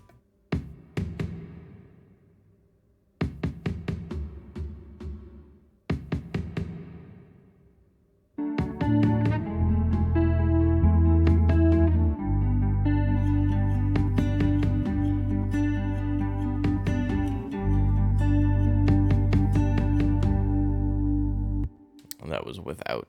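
Tom drums play through a mixed re-made cover of a song, first as sparse separate hits, then under a dense, loud sustained bed of other instruments without kick or snare.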